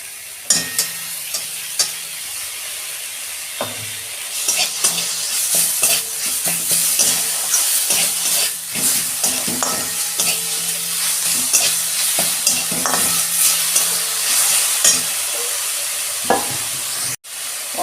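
Ginger garlic paste frying with onions in a pan for ghugni, a continuous sizzle broken by frequent scraping and clinking stirs of a spoon against the pan, fairly close and with no talking.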